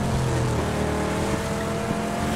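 Two motorcycles in a battle royale video game, their engines droning steadily and continuously at close range with a constant, even pitch and no talk over them.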